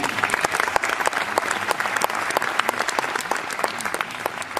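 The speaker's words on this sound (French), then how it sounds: "je voudrais que vous l'applaudissiez, David" An audience claps for a man named David Perez at a business meeting in Lyon, steady dense applause with sharp individual claps standing out, fairly close and sustained throughout.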